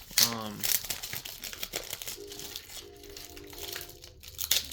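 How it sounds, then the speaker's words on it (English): Plastic shrink wrap is peeled off a Blu-ray case close up, giving bursts of crinkling and crackling while someone talks over it. "The plastic like never comes off all the way initially."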